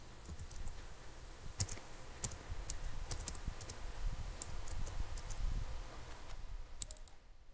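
Computer mouse and keyboard clicks sound while labels are copied and pasted in Fluidsim software: a sparse, irregular series of close, light clicks over a quiet background hum.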